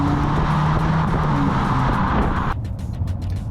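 A 2022 Infiniti QX55 with all-wheel drive takes a corner, a steady engine drone with road and tire noise heard from inside the cabin, easing off sharply partway through.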